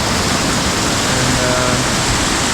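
Waterfall number five on the Seven Waterfalls hike in Juayua roars as a loud, steady, broadband rush of falling water, close and unbroken throughout.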